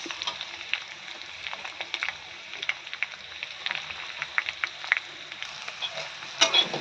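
Cumin, green chili and chopped onion frying in hot oil, a close crackling sizzle full of small pops and ticks, with a louder sputter of spattering near the end.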